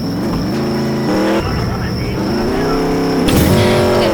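A car engine in the Roblox game Mad City revs in rising and falling harmonic steps, loud and close, with sharper bursts of acceleration in between.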